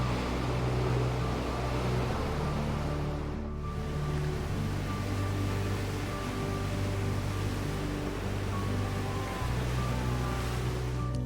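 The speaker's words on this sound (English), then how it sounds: "the sound of the sea crashing against the rocks" Sea waves crash against rocks along the Pebble Beach coast in California. A steady, broad wash of surf rumbles on without a break, with a low continuous roar and no voices.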